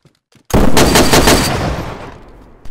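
Gunfire in the video game DayZ during a castle base raid: a loud, close burst of rapid automatic shots lasting about a second, then a long echoing decay, with a faint shot at the very end.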